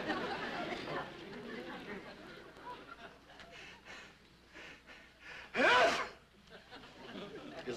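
A single loud, sharp sneeze on a radio comedy program set in an allergy doctor's office, bursting out after soft background chatter and small noises.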